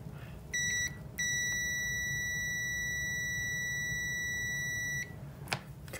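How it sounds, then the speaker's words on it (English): An ohmmeter continuity beeper, used while probing an AC step-up/step-down transformer, gives a short faint tone, then a sustained electronic beep for several seconds before it stops over a low background hum. "I'll shut off the beeper so that we don't have to listen to that"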